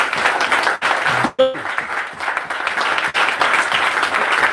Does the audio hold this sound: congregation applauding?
yes